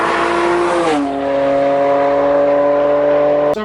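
Mitsubishi 3000 GT engine, sharing its chassis and engine with the Dodge Stealth RT, sounds loud and steady with a strong harmonic drone that shifts pitch about a second in, then holds, with a brief blip at the end.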